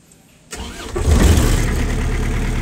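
A Shindaiwa DG259MI 25 kVA diesel engine generator cranks over and fires, quickly catching into a loud, steady diesel idle close by.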